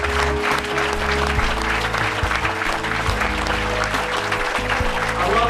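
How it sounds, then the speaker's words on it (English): An audience applauds Vietnam veterans with sustained, dense clapping that stays loud and even throughout, filling the room. "we'd like to give you a round of applause"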